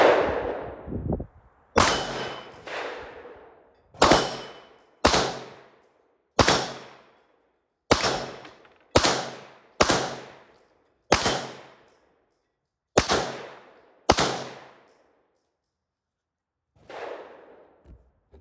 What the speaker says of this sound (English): All right, now for the X5 Legion. I've got 3 magazines for this. Let's see if we can hit anything with this over.